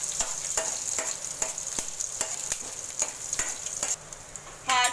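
Urad dal fries in hot oil with a bright, steady crackling sizzle, broken by regular scraping stirs. It is heard close up, and a short dip comes before a louder burst at the end.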